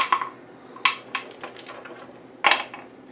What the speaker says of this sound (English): we're going to unlock and open just a jar